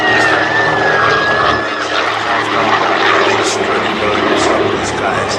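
A Douglas DC-3 Dakota propeller aircraft flies past at an airshow, a loud, steady engine drone holding throughout with a thin rising whine, while a voice talks over it.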